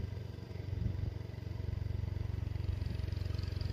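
A motorcycle ridden along a steep, descending road near a bridge, its steady low engine rumble carrying close and continuous throughout, with no voices.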